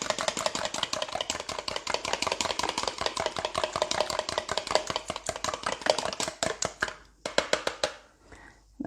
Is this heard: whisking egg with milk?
yes